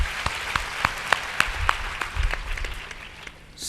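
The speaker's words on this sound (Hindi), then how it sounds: "एक बार ताली बजा के उनका अभिनंदन।" A satsang audience claps, a burst of distinct, evenly spaced hand claps that soon thins out and fades to a few scattered claps.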